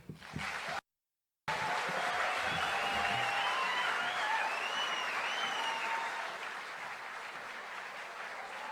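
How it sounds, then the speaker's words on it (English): A large crowd at a community talk on climate and energy claps in sustained, dense applause that carries on steadily before tapering slightly toward the end. "another round of applause"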